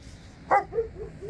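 German shepherds on a roadside give a single short, fairly close bark followed by a couple of softer, lower yelps over faint background hum.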